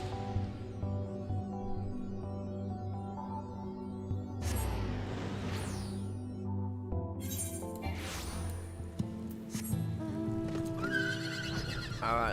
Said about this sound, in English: Flying on our golden PvP horse.